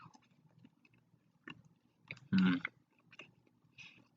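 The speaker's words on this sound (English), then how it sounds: "Why don't you enjoy with me an Elmer's gold brick egg since 1885?" Someone chewing an Elmer's Gold Brick egg, chocolate with nuts, with soft close mouth sounds and one louder crunchy bite in the middle, otherwise quiet.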